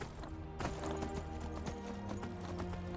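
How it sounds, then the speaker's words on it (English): A horse's hooves clip-clop at a riding pace in Skyrim, a steady series of close, distinct hoof strikes over game music and ambient hum. "Just gotta ride in like a boss. Get off the horse."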